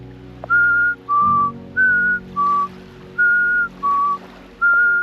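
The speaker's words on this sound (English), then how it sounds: "So if you whistle, they actually come out." A person on a deserted island whistling to call hermit crabs out, a loud, close run of seven short, clear whistled notes alternating between two pitches at an even rhythm.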